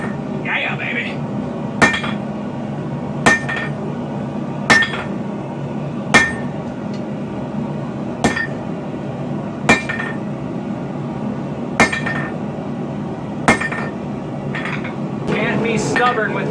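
A hammer forges a sword blade from railroad steel, ringing sharply about every one and a half to two seconds in a steady rhythm, with voices talking over a constant low background hum.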